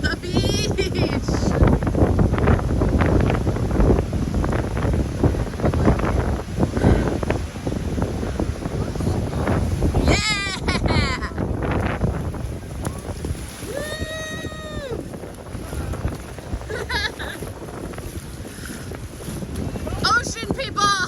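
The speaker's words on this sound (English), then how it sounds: "It is so windy." Strong wind buffets the microphone at a beach during a cruise stop, a constant loud roar with surf beneath and brief voices breaking through.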